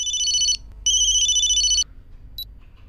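Electronic telephone ringtone in the video game Memento Mori: two loud, close bursts of warbling trilling tone separated by a short pause, followed by a brief high chirp, with no talking.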